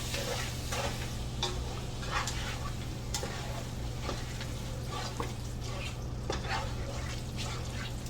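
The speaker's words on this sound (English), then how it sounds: "And then I'm just going to stir this all up." A sloppy joe mixture with chili powder is stirred in a pan, a steady sizzle under soft scraping and occasional clicks of the spoon, close and continuous.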